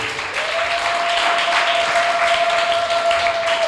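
A church congregation bursts into sustained applause for the Lord, dense clapping filling the room evenly and loudly, with a steady sustained tone ringing underneath.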